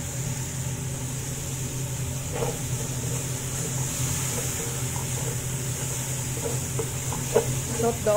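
Fish frying in a pan for matchboos with daqous, giving a steady, continuous sizzle with occasional stirring clatter, fairly close and even throughout without speech.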